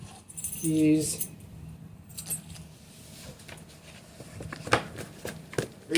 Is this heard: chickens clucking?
no